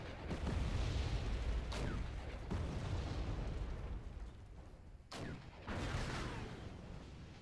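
A tank blows up in the Wargame: European Escalation battle, producing a heavy rumbling boom that rolls on, followed by a second sharp blast and further rumble, loud and close.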